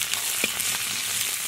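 Scallion, ginger, garlic and Sichuan peppercorn fry in oil in a wok, giving a steady close sizzle with a few soft stirring knocks and no voices.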